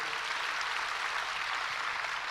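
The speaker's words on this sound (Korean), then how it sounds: "살려주신 하나님께 영광의 박수 올려드리겠습니다." A church congregation claps together during a Sunday worship service, a dense and steady burst of applause filling the room without voices on top.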